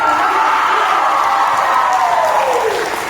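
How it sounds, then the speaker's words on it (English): A theatre audience breaks into loud, sustained applause mixed with cheering and whoops at a live stage show, filling the whole stretch without a pause. "Loud applause and cheering."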